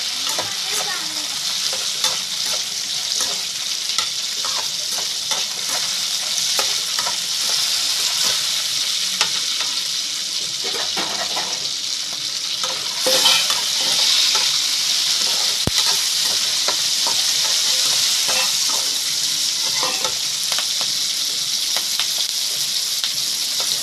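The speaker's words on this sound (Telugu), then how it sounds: "కొంచెం ధనియాలు, జీలకర్ర, ఈ 4 కూడా వేగిపోవాలి." Coriander seeds and cumin fry in a pan for tomato chutney, giving a steady close sizzle with scraping stir sounds throughout and no talking.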